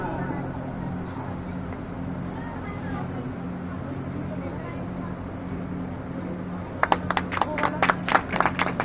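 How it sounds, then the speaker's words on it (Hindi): Audience applause at an honouring ceremony in Madni Khatu Shyam Ji, Sikar, breaking out near the end as a burst of claps over a steady crowd hum and low background murmur. "तालियों में कंजूसी नहीं हो।"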